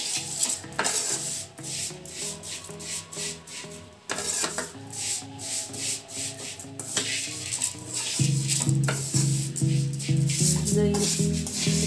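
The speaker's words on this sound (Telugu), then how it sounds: "ఆ నెయ్యిలోనే వేయించేసుకుంటామండి సేమియాని. మీడియంగా పెట్టుకొని వేయించుకోవాలండి స్టవ్ని." Vermicelli roasting in ghee over a medium flame on a stove, giving steady dry rubbing and stirring scrapes that run through the whole stretch over a constant background of music.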